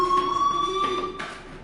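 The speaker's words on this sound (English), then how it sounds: "Hey, do you hear that fire alarm?" Fire alarm ringing in a video game, a steady electronic two-tone buzz with pulsing bursts, sounding alone and fairly loud throughout.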